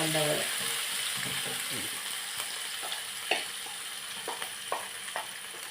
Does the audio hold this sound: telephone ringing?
no